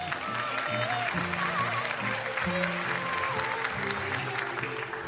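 A theatre audience at a comedy sketch staged as a wedding applauds to welcome a couple onto the stage, with dense, sustained clapping and a faint musical tone underneath.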